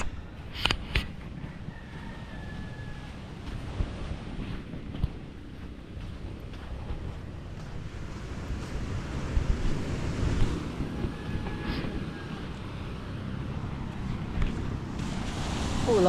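Waves roll and wash steadily on a seashore, a continuous rumbling surf mixed with gusty wind buffeting the microphone, with no talking.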